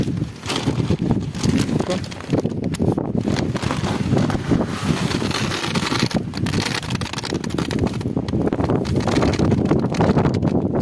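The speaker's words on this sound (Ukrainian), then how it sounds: "Вітер, звісно." Strong wind buffets the microphone continuously, a loud rumbling roar with gusty fluctuations throughout, and no clear voices.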